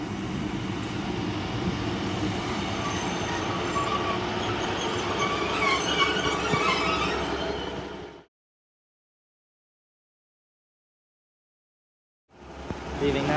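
A Class 152 diesel multiple unit in Northern livery rumbles loudly into Severn Tunnel Junction station on a service to Cardiff Central, continuous rail and engine noise for about eight seconds, then abrupt silence before the noise returns near the end.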